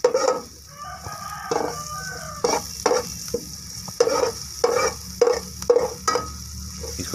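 Chopped green chilli and vegetables stir-fried in a pan, a spoon scraping and tossing in irregular bursts over a steady sizzle, close-up with occasional faint background noise.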